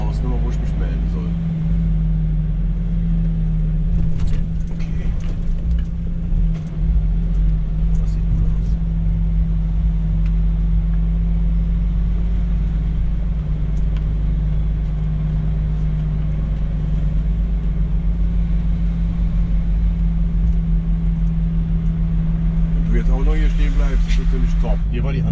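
A heavy truck rolls slowly down toward the road, its diesel engine holding a steady low drone and rumble throughout, with someone talking in the cab over it.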